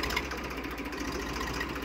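An old second-hand Massey Ferguson 1035 DI tractor engine runs at a steady idle nearby, a continuous low diesel rumble with no voices over it.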